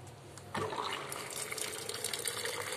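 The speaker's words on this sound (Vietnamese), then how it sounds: "rồi sau đó mình chế nước sôi ha" Boiling water pours into a half-litre jar over ten pieces of dried winter melon for tea, starting abruptly as a close, continuous splashing rush that fills out and holds to the end.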